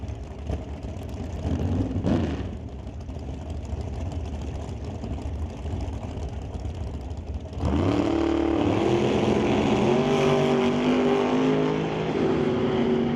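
Drag race between a Bel Air and a 1996 Cutlass: engines rumble at a distance, then a loud surge of revving and hard acceleration takes over midway and holds steady to the end, with no talk.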